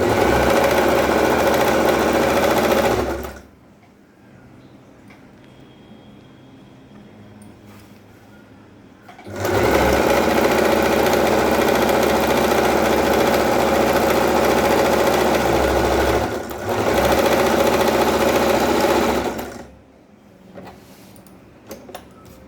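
A sewing machine stitches petticoat panels together in long steady loud runs, with quiet pauses between them.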